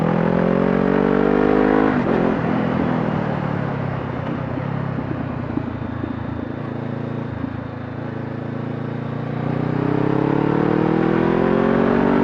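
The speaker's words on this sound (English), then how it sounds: "I do like the exhaust note. This must have a pipe on it." Honda CBR 500 motorcycle with an aftermarket pipe on a race track, its exhaust note rising and falling as the rider shifts and accelerates, loud and continuous, briefly dipping mid-run before climbing again.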